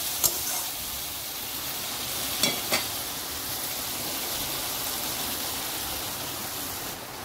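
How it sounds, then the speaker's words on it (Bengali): Chicken with ground spices stir-fried in oil in a pan, a steady dense sizzle close by with a few light spatula scrapes. "এবার আমি আরও কিছুক্ষণ এইভাবে কষতে থাকবো।"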